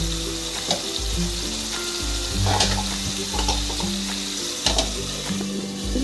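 Chicken meat frying in a pan while being stirred, a loud continuous sizzle with repeated scraping and stirring strokes, close up and without speech.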